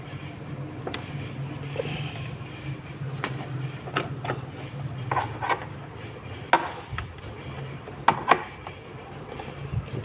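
Screws being worked loose from the rear signal light of a Honda Zoomer X 110 scooter, with soft rubbing and scraping broken by a few sharp plastic clicks and taps, close up and fairly quiet.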